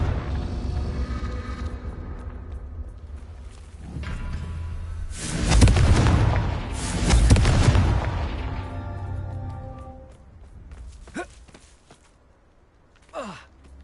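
Confringo fire spell blasting in Hogwarts Legacy on PS5, landing as two heavy, rumbling explosions around the middle of the stretch, preceded by a softer whoosh and followed by a few faint sharp cracks near the end.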